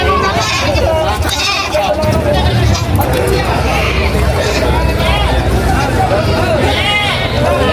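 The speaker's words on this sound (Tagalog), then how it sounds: "Isa pang malaking kambing." Goats bleating repeatedly amid a noisy crowd of voices at a livestock market, several calls overlapping close by against constant chatter.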